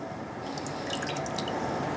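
Water drains from a homemade paper-making frame after it is lifted from the water, with a steady soft trickle and scattered light drips, close and unaccompanied by speech.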